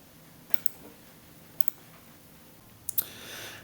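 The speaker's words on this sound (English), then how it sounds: "So I go up to the waffle up here and I click on my drive here." Computer mouse clicks in a quiet room, a few sharp paired clicks spaced a second apart, close and crisp over faint background hiss.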